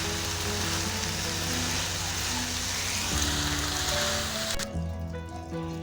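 Fenugreek leaves frying in a spice masala for a potato and fenugreek curry, a loud, dense, continuous sizzle with occasional stirring, cut off abruptly near the end.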